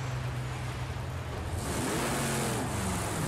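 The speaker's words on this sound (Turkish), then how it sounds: "Motor sesi çok kuvvetli ama ürettiği hız hiç yanından geçmiyor." A Chevrolet Camaro Z28 engine in Project Cars 2 roars steadily at high revs, then surges louder and rises in pitch as it accelerates, close and continuous with no talking.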